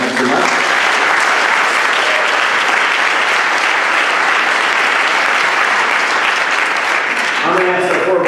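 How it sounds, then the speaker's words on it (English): Sustained applause from a debate audience honouring five election candidates, dense steady clapping filling the hall at full strength throughout, easing slightly near the end. "Let's give them one more round of applause."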